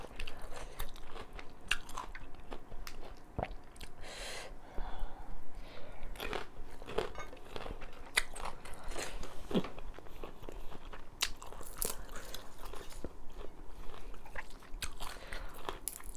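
Someone eating a crunchy Thai pork salad with lime, close and loud crunching and biting in irregular bursts, with chewing between bites.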